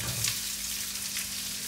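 Onion hits a hot pan with mustard seeds, fennel seeds, ginger and garlic over medium heat, giving a loud, dense, continuous frying sizzle close up with no talk.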